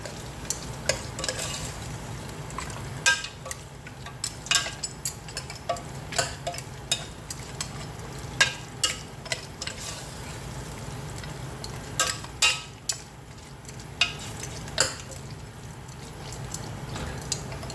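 Marinated mutton being sautéed in a pan for mutton pulao, a steady low sizzle with scattered sharp ticks and spatters of stirring scattered throughout, close and moderately loud with no talking.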